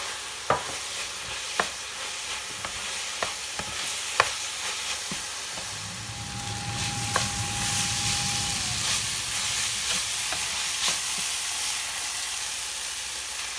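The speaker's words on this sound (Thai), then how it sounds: "ผัดไปสักประมาณสี่ห้านาทีนะคะ พอหอม" Spices with turmeric and garlic powder stir-fried in a pan, a soft steady sizzle punctuated by sharp utensil taps against the pan, close and moderately quiet.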